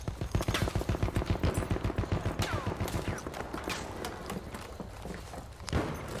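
Rapid gunfire from a video game firefight, with dense bursts of shots coming fast and loud in the first few seconds, then thinning into scattered cracks and one sharp report near the end.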